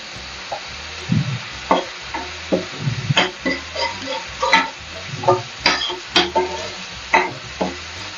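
Masala for chicken 65 frying in hot oil in a home kitchen, with irregular scraping stirs and soft sizzling up close, no voices.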